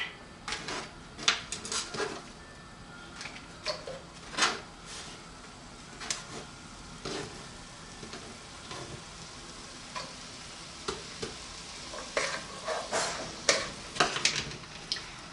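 Onions sizzling as they go into a pan for Frito pie: a quiet crackling hiss punctuated by scattered sharp pops and clicks, some in brief clusters.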